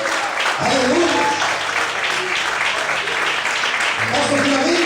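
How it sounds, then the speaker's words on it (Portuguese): A church congregation claps loudly and steadily throughout, while a preacher's voice calls out over the applause at the start and again near the end. "Você pode aplaudir em forte ao Senhor."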